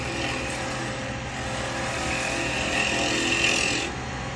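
A turning tool cutting laburnum wood on a lathe, a continuous close rasping shear over the steady hum of the spinning lathe, swelling slightly before easing off.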